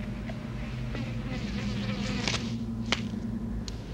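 Flies and mosquitoes buzzing in the 1981 horror film Wolfen, a close, steady insect drone with sustained whining tones, a few sharp faint clicks scattered through, and no voices.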